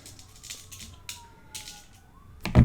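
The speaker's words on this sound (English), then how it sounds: "lots of sirens tonight." A faint siren wails in the distance, its tone sliding slowly downward beneath soft background noise, with a louder thump at the end.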